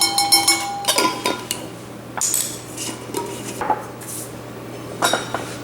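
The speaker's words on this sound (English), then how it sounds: "And just mix it all together" A utensil knocks and clinks against a bowl while chocolate cake batter with salt and baking powder is mixed. The clatter is close and irregular, in bursts with short pauses.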